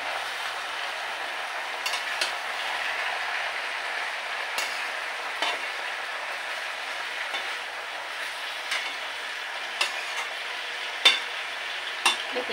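Malabar spinach leaves stir-fried with shrimp in a pan, giving a soft continuous sizzle with occasional sharp clicks of a spatula against the metal.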